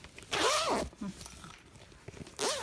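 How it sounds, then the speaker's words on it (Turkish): A zipper on a storage bag for a bridal trousseau is pulled open in two quick, close rasping strokes separated by a short pause. "Hemen bunu da açıyorum."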